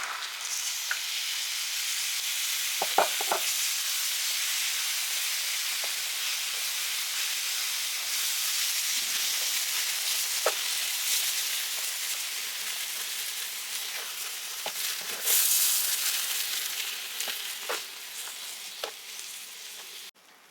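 Curd stirred into a shallot kurma in a pan, a soft continuous sizzle and hiss with faint scraping stirs now and then, quiet and close, no talking.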